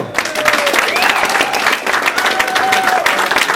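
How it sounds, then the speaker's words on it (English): Dense audience applause and clapping for a comedian taking the stage at a live show, steady and loud throughout with some crowd noise mixed in. "a big round of applause for one and only Mr. Gav Coulson"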